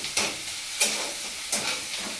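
Chopped tomatoes sautéing in a pan, a steady sizzle broken by three sharp stirring scrapes at regular intervals, close and alone without talk.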